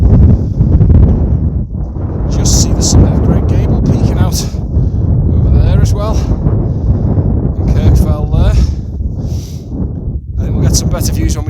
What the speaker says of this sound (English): this wind is pretty crazy. Pretty cold and very strong.